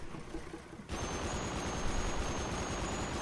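The mounted turret gun of an MRAP Catamount in a video game opens up suddenly after a brief quiet, firing a rapid, continuous automatic stream of shots that stays loud and steady to the end.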